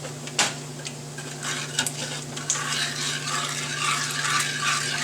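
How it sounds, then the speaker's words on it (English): A spoon stirs a brown sugar and flour mixture into a simmering mustard sauce in a pot, soft scraping and light clinks over a steady low hum and gentle sizzle, with no voices. "Give it another little stir."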